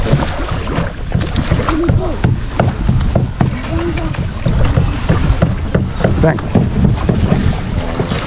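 A canoe moving across open water on the way to Ndere Island, with steady wash, splashing and wind noise filling the whole stretch while a voice speaks briefly.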